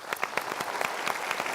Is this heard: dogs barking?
no